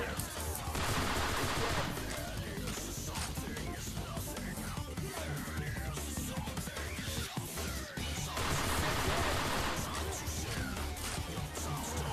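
Enemies shoot in a video game, a dense nonstop barrage of gunfire mixed with crashes and other busy game noise that stays loud throughout.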